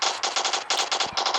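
Video game gunfire rattles in rapid, evenly spaced automatic bursts, loud and close, with a brief break near the middle.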